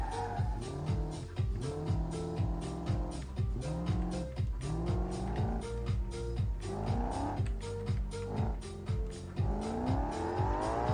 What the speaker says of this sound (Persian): چون دور موتورش بالا.